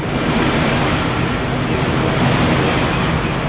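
A wind turbine at a wind park as the wind gusts, heard as a loud, steady broadband rushing roar that swells slightly without pause throughout.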